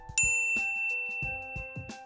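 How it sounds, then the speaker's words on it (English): Notification bell ding sound effect: a bright metallic ding at the start followed by several soft thumping clicks and lingering ringing tones, with no voices. "ring the bell to be notified about our latest videos"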